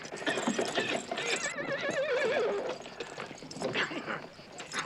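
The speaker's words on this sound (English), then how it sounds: "Jack, I found a horse." A horse whinnies in a wavering, high neigh amid busy outdoor noise, hoof clatter and a barking dog, with voices in the background, moderately near.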